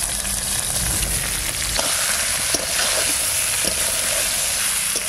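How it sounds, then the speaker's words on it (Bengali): Sea crab frying in a pan: a steady, close, dense sizzle and crackle runs throughout, with a few faint clicks of stirring and no voices. "আজকের কাঁকড়াটা একটু অন্যরকম ভাবে রান্না করবো, ওই জন্য একটু ভেজে নিই।"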